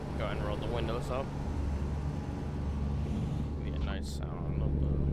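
Cummins N14 truck engine in American Truck Simulator, heard from inside the cab with the windows up, a low muffled diesel drone beneath someone talking over it.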